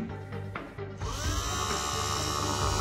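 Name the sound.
DC drill machine running on homemade lithium battery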